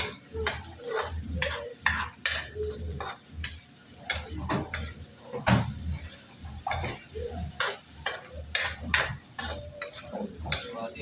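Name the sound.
stirring sisig in a frying pan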